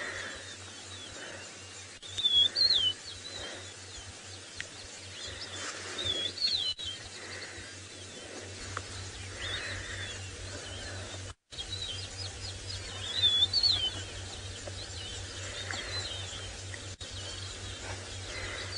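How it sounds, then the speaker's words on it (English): Rufous-naped larks and yellow-throated longclaws sing in short, scattered phrases at sunrise in the Maasai Mara, against a quiet open-air background with a low steady hum, calls coming and going over time. "Happy little birds, rufous-naped larks, yellow-throated longclaws, singing their joy of the new day."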